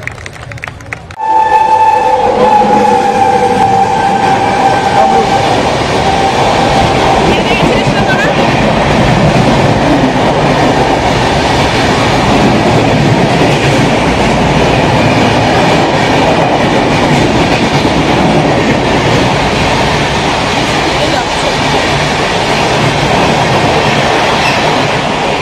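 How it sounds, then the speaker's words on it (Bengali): A train on the journey from Naihati rumbles along the tracks with a loud, continuous clatter. Brief tonal sounds open the passage before the steady rolling noise fills the rest. "নৈহাটি থেকে আমাদের ট্রেন জার্নি আমাদের এটাই লাস্ট, দুটো স্টেশন"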